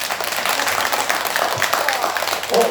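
Audience at a Buddhist dharma talk in a Korean temple claps steadily in a dense wash of applause, with a few voices mixed in near the end.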